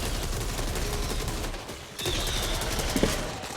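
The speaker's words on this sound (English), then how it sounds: "The last 3 or 4 bullets of our shotgun get the max damage bonus of Patient Hunter if we just full" Shotgun blasts ring out in the video game Back 4 Blood, a dense burst of gunfire that keeps going with little pause, loud and close.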